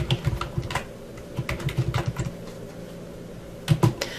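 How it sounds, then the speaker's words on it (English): Fingers type on a computer keyboard, entering a note: close, crisp keystroke clicks in quick bursts, a quieter pause in the middle, then a final cluster of taps. "This allows me to type my informational note."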